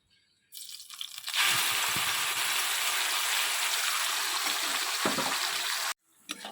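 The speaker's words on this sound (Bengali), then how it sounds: "এবার এই পেস্ট করা মশলাটা দিয়ে দেবো" Ground spice paste hits hot oil in a pan and erupts into a loud, dense, continuous sizzle that holds steady for several seconds before cutting off abruptly, close up with no talk.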